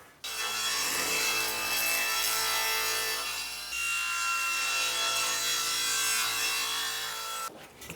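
A saw blade set at 45 degrees cuts through 27 mm fir, giving a loud, steady sawing rasp that runs almost the whole time and stops abruptly near the end. There is no talking.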